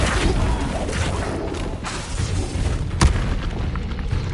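Bombarda spell explosions in Hogwarts Legacy, dull booms and crashing bursts amid steady combat noise, with a sharp loud blast near the end standing out from the busy backdrop.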